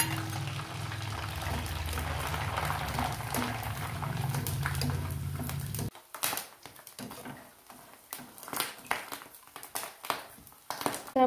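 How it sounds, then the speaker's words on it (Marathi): Nylon poha fries in hot oil with a dense, steady sizzle. It breaks into an uneven crackle and patter as the frying stirs. "आता आपण त्याच तेलामध्ये नायलॉन तळून घेणार आहोत।"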